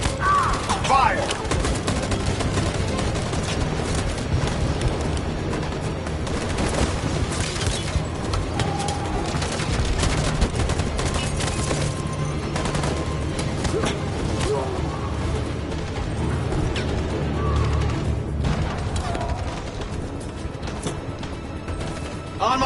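A sustained gunfire volley in the video game Detroit: Become Human, loud dense bursts of shots with booms and crashes going on throughout, with voices calling out over the firing.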